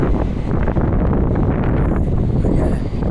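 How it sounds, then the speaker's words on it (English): Strong wind coming off the water near Water Street and Barrington Street buffets a microphone, producing a steady, loud low roar that lasts throughout with no pauses. "I think you're going to hear about a wind blast because it's wind blowing off the water."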